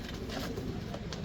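Soft pigeon cooing close by, a steady low murmur of calls with no talking.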